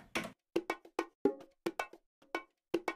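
Sliced drum loop played back in Reason software, a run of short, punchy separate hits with cowbell-like tonal accents, spaced in a steady, even rhythm with brief silences between slices.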